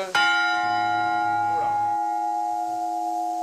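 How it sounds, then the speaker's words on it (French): A church bell strikes once loudly and rings out with a long, sustained hum, a brief murmur of voices in the background. "Les cloches sonnent constamment."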